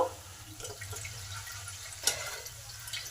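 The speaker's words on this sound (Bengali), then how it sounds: "এবার আরও একটু জল দিয়ে দিলাম একটু গ্রেভি গ্রেভি করার জন্য" Water poured into a pan of cooked-down spiced masala for an eggplant curry in yogurt, a faint, steady watery trickle over a low background hum, with a brief splash near the end.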